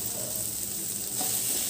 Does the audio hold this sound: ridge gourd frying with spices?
yes